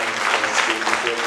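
A church congregation at an evangelical service claps together in a dense, continuous wash of applause, with voices mixed in throughout.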